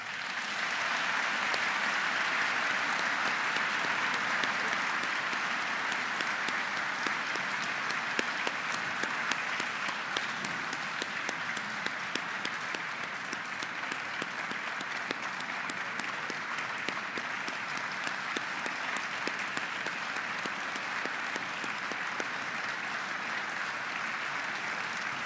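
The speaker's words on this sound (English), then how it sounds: "feel free to applaud as I call their names." Sustained applause from a large audience at a Congressional Gold Medal ceremony at the United States Capitol, steady and dense throughout, with no break in the clapping.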